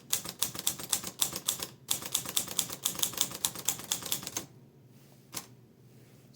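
Rapid, steady keystrokes on an Olivetti Lettera 22 manual typewriter, loud and close, with crisp mechanical clacks in quick bursts, a short pause, then a few isolated strikes near the end.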